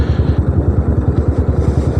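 A motorcycle engine idles in neutral while rolling downhill on a mountain road near Thandiani, Abbottabad, a loud, close, evenly pulsing low putter with fast regular beats and no voices.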